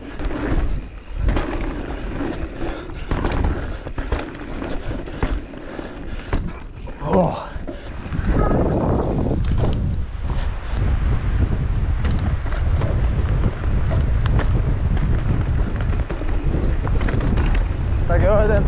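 Strong wind buffets the microphone on a mountain bike ride down an enduro trail, a loud, continuous roaring rumble that surges and drops throughout, with faint talk mixed in.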